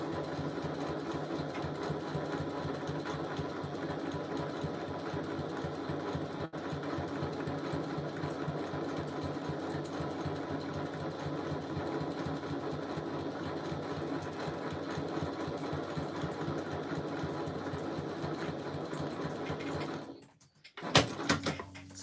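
A sewing machine runs a continuous basting stitch around the edge of fabric, humming steadily and close for about twenty seconds before stopping, followed by a few soft handling knocks.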